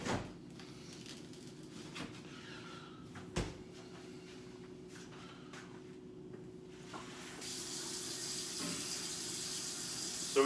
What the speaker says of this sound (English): we gotta rinse the vegetables in cold water to get any dirt that they were grown in off of the vegetable